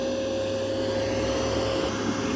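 A Mova P10 Pro Gen 2 robot vacuum runs over a taller carpet, giving a steady, loud, close motor whine with a constant tone that holds throughout, with no talking.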